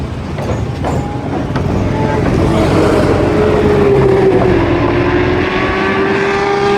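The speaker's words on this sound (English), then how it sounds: "We're getting a ride in the shuttle." Shuttle ride at Lime Rock racetrack on Trans-Am Memorial Day weekend: a steady, loud vehicle engine drone and road rumble fill the cabin, with a rising tone and faint voices in the background.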